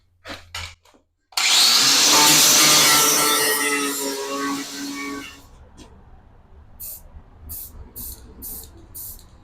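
An angle grinder fitted with a face-off disc works across a large sheet metal toolbox, a loud sustained broadband grind after a few brief bursts, easing off to a quieter, rougher scraping with intermittent high hissing pulses.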